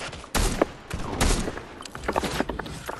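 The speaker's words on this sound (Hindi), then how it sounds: "किसी ने मेरे पे गोली चलाई है" Gunfire in the video game Fortnite comes as a rapid fusillade of sharp shots in uneven bursts, loud and close, with several separate volleys across the moment.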